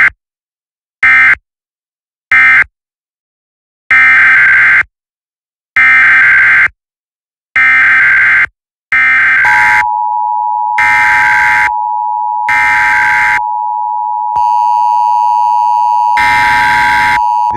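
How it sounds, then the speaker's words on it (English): A weather radio required weekly test: loud, pulsed electronic data bursts at regular intervals, then a long, steady, piercing warning alarm tone with more bursts around it. "The warning alarm tone will be activated for hazardous conditions."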